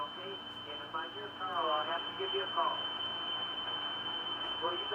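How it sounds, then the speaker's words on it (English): A radio receiver with passband tuning switched off picks up interference: a steady high-pitched whine runs under a received voice transmission, continuous and fairly faint. "right now you'll hear that interference coming in."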